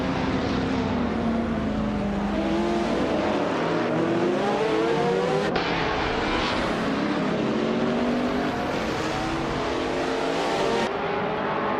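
Race cars roar around a track in a nonstop race, engines whining and shifting pitch as they pass and accelerate, loud and continuous with overlapping revs and no talk.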